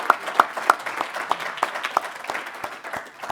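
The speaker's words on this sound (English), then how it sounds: "please give Joseph South a round of applause" Applause from a panel-discussion audience honoring an official who served President Barack Obama: a thin scattering of individual claps, a few sharp ones up front, then lighter uneven clapping that thins out toward the end.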